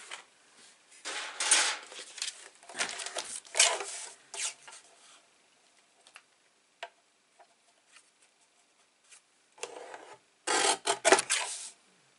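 A paper trimmer slices paper for an 8x8 Graphic 45 scrapbook ring album, heard as several close, rasping sliding strokes in bursts separated by quiet gaps, with a few small ticks between them and no talking.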